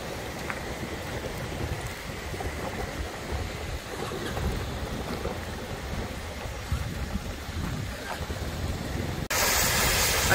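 Boiling hot water bubbles and churns at an active sulphur thermal spring, giving a steady, dense rushing hiss with loud close gurgles that goes on without a break.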